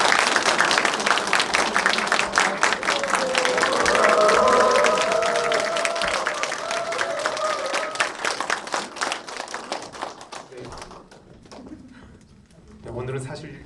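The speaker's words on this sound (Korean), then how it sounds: "우리 격려 박수 한번 해주시면 좋을 것 같습니다." A church congregation at a graduation ceremony applauds with brisk, dense clapping that stays strong for several seconds, then thins out and fades away.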